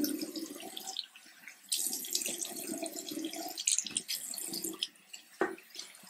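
Tap water runs into a bathroom sink while someone rinses their face by hand, a steady close splashing with bursts and drips as hands move through the stream.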